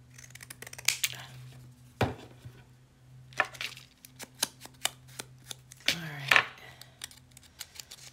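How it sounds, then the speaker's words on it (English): Scallop-edged craft scissors cut paper close up in a few separate snips and crunches with quiet pauses between, while small rustles and handling knocks fill the gaps. "If I can find my scallop scissors."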